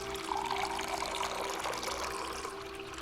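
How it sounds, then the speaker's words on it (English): Water poured from a helmet into a jug, a steady splashing trickle of moderate level running continuously without a break, with no voices. "filled with water from the channel before pouring the contents into the jug"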